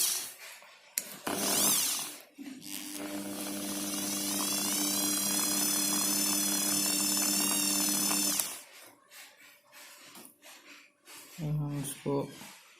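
A Bosch GSB 550 drill set to forward rotation whirs loudly at steady speed for about six seconds, its pitch climbing as it spins up. Someone talks before and after the run, with brief trigger clicks and handling noise.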